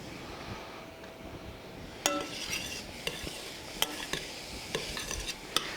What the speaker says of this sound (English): So in go the onions. And the mushrooms.